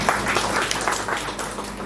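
An audience at a book launch ceremony claps for a couple of seconds, a dense burst of applause that stays fairly even and fades slightly toward the end.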